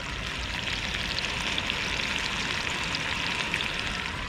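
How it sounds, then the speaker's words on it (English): Steady, dense sizzling of food frying in a hot pan, a constant crackling hiss with no pauses, heard up close. "Dinner is sizzling away."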